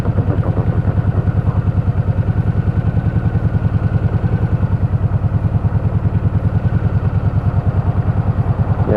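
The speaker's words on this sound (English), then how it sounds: "Listen to that engine, listen to that all day long" A motorcycle engine runs on a country ride with a rapid, even throbbing pulse. The sound is loud and close, with a deep low rumble that holds steady throughout and no voices.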